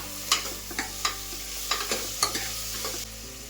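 Tomatoes sautéing with softened onions in a pan for veg biryani, a soft continuous sizzle punctuated by several sharp scrapes and clinks of a spoon stirring, close and clear with no voices.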